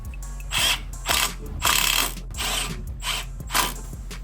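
A Milwaukee electric ratchet runs in bursts while swapping a bushing on a crashed 2019 Suzuki GSX-R750, about six short whirring, clicking pulses separated by brief pauses, close and clear with no talk.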